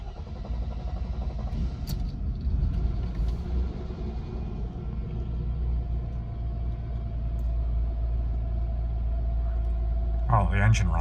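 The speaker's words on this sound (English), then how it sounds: "the engine runs nicely" A Mercedes W124 engine rumbles at a steady idle close by, low and continuous, with a faint sputter early on and a short voice near the end.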